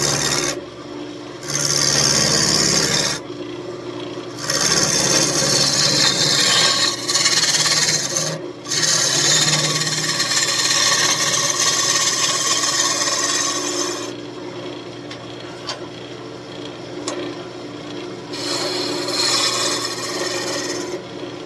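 Old walnut desk leg spinning on a wood lathe while a cutting tool scrapes and rasps at the wood, loud continuous shaving broken by brief pauses, close up with no talking.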